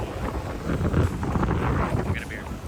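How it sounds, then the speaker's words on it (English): Strong wind rushes and buffets across a beach in Bali, a steady, loud roar with gusty swells, with possible faint voices in the background. "it's super windy today"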